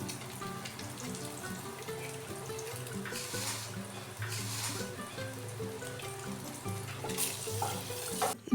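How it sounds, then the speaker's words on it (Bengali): Boiled eggs fry one after another in hot oil with turmeric and chilli in a kadai, a dense, continuous sizzle and crackle close by with occasional louder spatters. "তারপর একে একে সিদ্ধ ডিমগুলোকে গরম কড়াইতে দিয়ে ভালোভাবে ভেজে নিতে হবে।"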